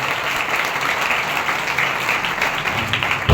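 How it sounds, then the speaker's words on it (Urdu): A church congregation claps hands together during a Sunday service, a dense, steady burst of applause filling the room for a few seconds. "پھر دل کھول کے تالیاں بجانی چاہیے"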